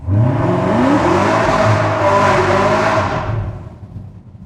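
A loud Chevrolet Camaro ZL1 exhaust revving close by, a sustained roaring engine with rising and falling pitch that trails off near the end.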